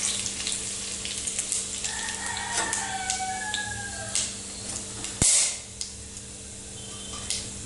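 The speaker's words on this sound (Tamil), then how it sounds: "இந்த சமயத்தில் வந்து சோம்பு, பிரியாணி தலை, மராட்டி மொக்கு, பட்டை எல்லாத்தையும் சேர்த்திடலாம்." Whole spices such as fennel, bay leaf, marathi moggu and cinnamon hiss and crackle in hot oil and ghee for tomato biryani, a moderate, continuous sizzle with a sharp clank partway through.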